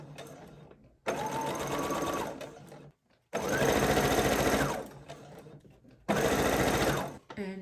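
A domestic sewing machine stitching ribbon close to a skirt seam, running in three bursts of rapid mechanical whirring separated by short pauses, close and clear with no talking over it.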